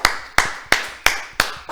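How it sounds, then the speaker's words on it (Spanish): Five sharp, evenly spaced claps ring out in a steady rhythm from a production crew at a studio talk show, crisp and close with short decays. "Eso merece un aplauso, hasta la producción lo va"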